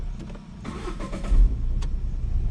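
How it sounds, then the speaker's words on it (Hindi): Car engine cranks and catches with the brake held, a short starter whir rising into a steady low idle rumble, close and loud with no talking. "गाड़ी स्टार्ट कीजिए, ब्रेक दबा के स्टार्ट कीजिए।"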